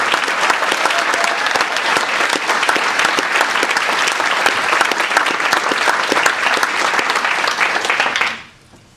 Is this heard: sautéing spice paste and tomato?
no